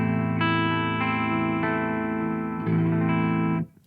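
Ormsby Hype GTR electric guitar tuned to drop A, clean tone through a Boss MZ-2 Digital Metalizer setup, with steady, closely played notes ringing over sustained low strings for nearly four seconds before stopping.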